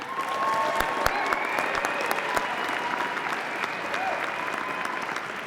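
A room full of people at an evening event honoring nurses breaks into sustained applause, a dense even clapping wash with a few sharper claps, no voices over it.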